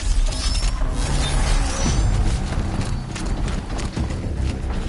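Combat in Horizon Zero Dawn as a Corruptor machine fights near Karja Fort: dense, loud mechanical clanking, creaking metal and rhythmic stomping steps layered with bursts of noise throughout.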